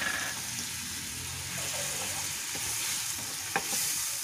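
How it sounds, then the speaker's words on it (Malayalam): Ground masala and turmeric sizzle steadily in a hot pan for a vegetable rice dish, with faint stirring scrapes and a small clink under the constant frying hiss. "നമുക്ക് ഇത് കൂടെ ഒന്ന് വഴറ്റാം"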